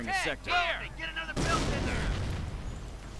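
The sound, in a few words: mortar artillery fire in a video game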